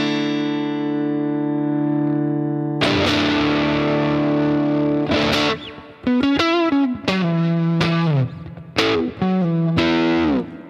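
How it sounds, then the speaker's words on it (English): Clapton-style Stratocaster electric guitar played straight into an amplifier with no pedals, starting on one sustained chord and then moving through a run of crisp, separate chords and notes, fairly loud, with no talking. "That's just the guitar into the amplifier."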